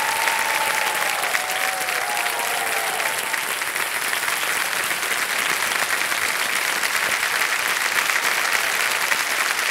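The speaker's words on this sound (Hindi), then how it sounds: "तालियां बज जाएं के लिए।" A studio audience on the Kaun Banega Crorepati game show gives sustained, even applause, a continuous wash of clapping with a brief musical tone sliding through early on.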